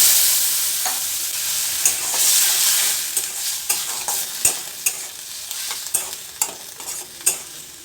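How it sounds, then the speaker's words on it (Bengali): Potato stuffing cooking in a pan with a little added water sizzles loudly and steadily, with a run of sharp spoon knocks and scrapes against the pan growing more frequent, and no one speaking. "আলুটা নিচে লেগে যাচ্ছিল, তাই একটু জল দিয়ে দিলাম।"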